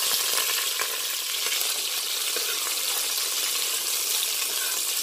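Cumin seeds and green chilies fry in hot oil with a dense, even, loud crackling sizzle that runs unbroken throughout, close up and without talk.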